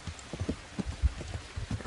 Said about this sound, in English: I've got a nice light downpour.